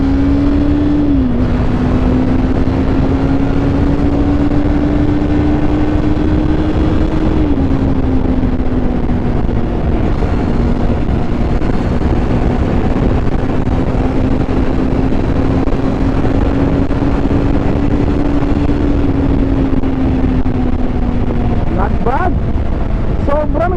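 A 2024 Kawasaki Eliminator 450 motorcycle engine pulls through its power band on a road run, a loud steady drone that climbs gradually in pitch with a brief shift dip, under heavy wind rush and someone talking.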